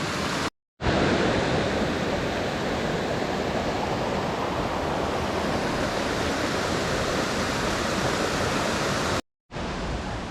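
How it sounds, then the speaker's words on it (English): Creek water flowing through a Pacific Northwest forest on the Olympic Peninsula, a loud, steady rushing wash that fills the whole span, briefly cut out near the start and end. "There's creeks everywhere."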